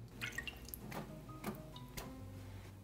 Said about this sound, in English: Before soaking the rice, we are going to rinse 2 to 3 times in order to get rid of some dust and starch.